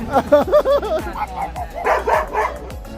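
A dog gives a run of soft, close barks and high yips with a whimpering edge, several quick calls in a row.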